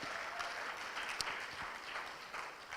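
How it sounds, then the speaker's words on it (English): An audience at a startup demo day gives a round of applause, steady dense clapping heard from a distance, fairly faint and even throughout. "Let's give them another round of applause."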